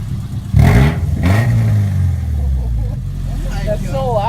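Subaru Forester with a straight-pipe exhaust revs loudly up close: a sharp blip rising from idle, a second rev, then a rumbling, rattling idle as people talk nearby.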